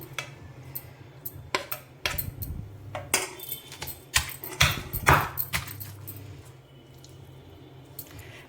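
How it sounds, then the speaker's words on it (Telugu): Ivy gourd, mint and coriander pounded in a stone mortar, a run of irregular thuds and squishy crushing strikes of varying force, close and alone with no talk. "కొంచెం కొంచెం వేసుకొని దంచుకోవాలి"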